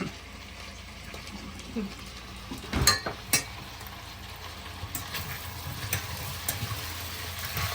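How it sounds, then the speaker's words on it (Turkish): Tomato paste sautés in a hot pan with a steady low sizzle, a few sharp clinks and scrapes from stirring mixed in, and the sound stays close and moderate throughout. "Bu kavrulsun salçayla da"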